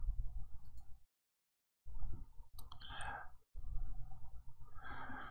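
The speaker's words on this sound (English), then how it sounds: "So I'll go ahead and type in a super secret password and click finish." Keystrokes and mouse clicks on a computer while entering a password during a Windows Server 2016 installation, coming in short close bursts separated by a silent gap.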